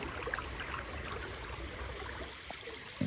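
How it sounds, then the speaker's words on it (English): A flowing creek beside a hiking trail gives a steady, even wash of running water throughout, with faint broadband hiss and no voices. "I just want to take a little second to show you the creek"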